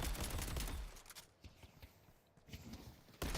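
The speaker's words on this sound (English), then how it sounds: "let me see how much like health I would like just get from shooting at these" Rapid gunfire in the video game Deadlock as a hero shoots at targets, loud dense bursts at the start and end with quieter scattered shots between, no voices.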